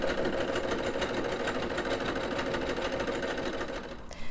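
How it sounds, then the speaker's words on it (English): A Singer Superb EM200 embroidery machine stitching out the first color of a design, a loud, steady, rapid mechanical whirring and knocking that runs continuously before easing off at the very end. "push the Start/Stop button just to keep embroidering. And it's going to stitch out my first color."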